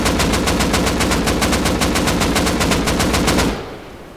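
Rapid automatic gunfire in the survival game Rust during a raid, about twenty loud, evenly spaced shots in a steady burst lasting several seconds, then cutting off abruptly.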